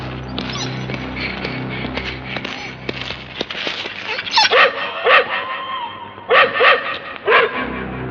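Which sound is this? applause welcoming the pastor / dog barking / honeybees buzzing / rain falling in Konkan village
dog barking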